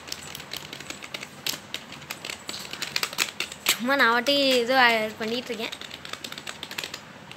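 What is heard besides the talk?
typing on an external computer keyboard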